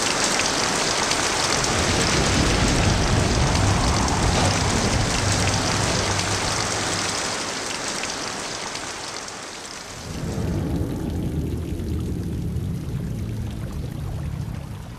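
Steady, heavy rain roars across the whole clip, with low rumbles like thunder beneath it; the downpour briefly dips before resuming.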